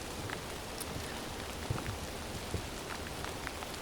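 Steady rain falls outdoors in a dense, even hiss, with a few louder drops standing out now and then; no voices, just the continuous downpour.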